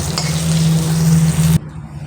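Pointed gourd frying in hot oil, a steady close sizzle with a low bubbling hum that runs for about a second and a half, then cuts off abruptly to near quiet.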